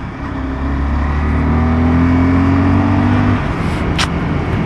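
A Honda CBR 250R engine revs up, holding a steady, strained tone close by before easing off, followed by a brief faint whoosh near the end.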